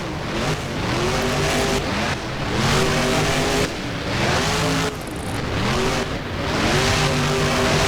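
A monster truck's engine roars and revs in BeamNG as it climbs over crushed cars, loud and continuous with rising, stepping pitch across repeated throttle pushes and no talking.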